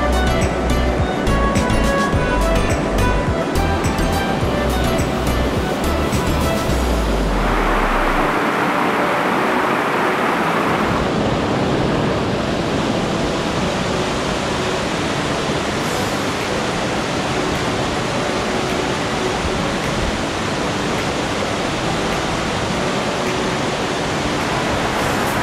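Alberta Falls, a waterfall in Rocky Mountain National Park, roars as a steady, loud, broadband rush of falling water that holds constant throughout, alone with no voices.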